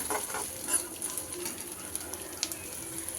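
Chopped garlic and ginger fry in hot oil for homemade Schezwan chutney, giving a steady, close sizzle with faint stirring clicks and a few sharp pops.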